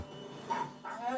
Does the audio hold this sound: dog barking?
yes